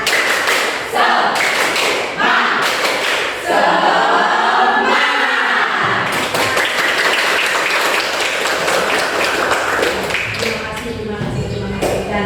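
A primary school class in a Scouting (Pramuka) lesson performs the tepuk semangat chant, loud rhythmic group clapping in bursts mixed with children's chanting voices, with a brief shuffling pause midway before the clapping resumes.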